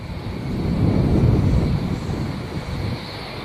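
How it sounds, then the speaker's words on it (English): Wind rushes past at the Starship SN6 launch site, a broad low roar that swells and eases steadily over several seconds with no voices. "You can hear the wind going"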